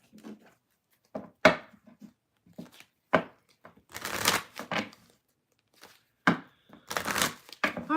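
Tarot cards are shuffled by hand in a series of short, crisp riffles and slaps, close and fairly loud, with quiet gaps between bursts and no voices.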